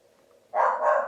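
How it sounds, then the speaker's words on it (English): A single loud, close dog bark breaks a quiet moment, a short burst that trails off. "Oh, Hank barked."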